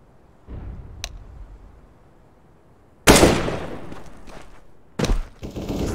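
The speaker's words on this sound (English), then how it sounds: "Flashbang." Counter-Strike: Global Offensive flashbang grenade detonating as two sudden, loud, bright bursts, each trailing off into a ringing decay, after quiet low rumble with a faint click.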